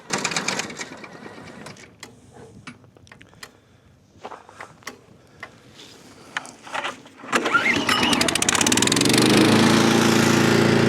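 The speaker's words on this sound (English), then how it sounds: "it didn't want to start. So you just pull the cord" A small gas engine on a radio-controlled snow plow sputters to life after a pull-cord start on a cold, icy driveway, rising into a loud, steady buzzing run after a few quiet clicks and handling noises.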